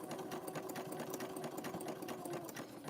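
A sewing machine stitches fabric-wrapped rope into a coiled bowl, its rapid steady needle chatter and motor hum running continuously at low volume with no talk.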